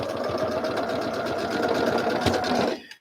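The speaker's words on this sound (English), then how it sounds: "let me sew these together a good," A sewing machine stitches quilt fabric pieces together with a quarter-inch seam, running steadily at close range for nearly three seconds before stopping abruptly.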